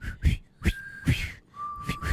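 Someone whistles short, thin notes, broken up by breathy puffs of air as they try again, close and fairly quiet.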